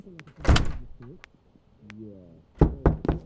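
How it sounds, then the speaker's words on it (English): Knuckles rap on a home door in quick sharp knocks, a couple early and a tight cluster at the end, with a person speaking between them. "That's me knocking on my own door."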